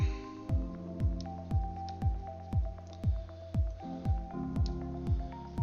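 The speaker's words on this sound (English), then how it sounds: "So I'm putting a little bit of water in there." Water dripping into a plastic paint bottle while model paints are mixed for a BMP-1 armored personnel carrier, a steady series of about a dozen close, soft plinking drops at an even rhythm, alone.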